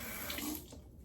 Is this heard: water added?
yes